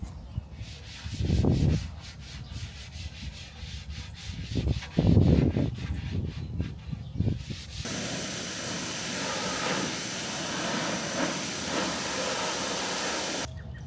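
Sponge scrubbing with Dawn soap on a Toyota Tacoma skid plate, heard as a few loud rubbing bursts close up, followed by a steady broadband wash of spraying or hissing that runs to the end.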